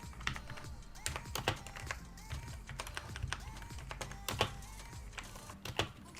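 An inexpensive RGB mechanical keyboard is typed on close up, giving a quick, uneven run of clacky keystrokes with a few louder thumps and no talking.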